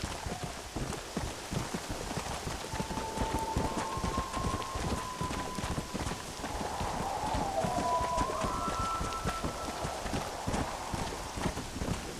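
Steady storm rain hisses throughout in Red Dead Redemption, with hoofbeats of horses clopping along underneath and faint tonal calls drifting in, no one speaking.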